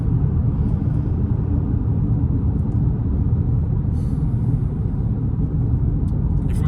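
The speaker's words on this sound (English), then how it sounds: "I love driving on Sundays." Car cruising on a highway, a steady low road rumble and tire noise filling the cabin throughout, with no talking.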